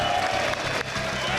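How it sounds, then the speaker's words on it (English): Audience applause and crowd noise fill the arena at the IEM Melbourne 2025 Counter-Strike 2 semifinal, a steady wash of clapping under a commentator talking. "Big round of applause here from Magisk and the Falcons."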